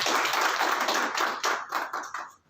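An audience at a Brahmin Mahasabha honours ceremony in north-west Delhi claps briefly. The close applause comes in uneven bursts and quickly tapers off.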